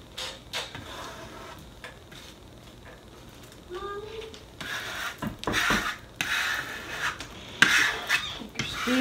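Squeegee rubbed over a stencil laid on wood for a sign, giving a series of close, scraping rasps and rubbing strokes that grow louder and denser in the second half, with faint background noise between passes.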